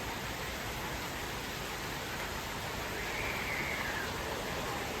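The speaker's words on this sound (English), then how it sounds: "Oh yeah, someone's definitely enjoying the rain." Steady rain pours outside beside a covered porch during a storm, a dense even hiss that holds constant and close throughout, with no voices.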